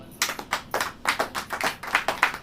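A church congregation claps in a quick, regular rhythm, the sharp hand claps close and distinct, with about a dozen beats and no voices over them.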